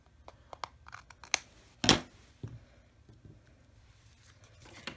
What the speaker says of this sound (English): We're going to trim the excess.